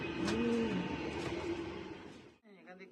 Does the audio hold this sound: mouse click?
no